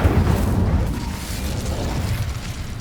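A fiery burst from the Incendio spell in Hogwarts Legacy, a dense, roaring rumble sustained for the full stretch at steady loudness, with no voices.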